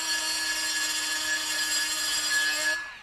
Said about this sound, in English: before you go grinding like I just did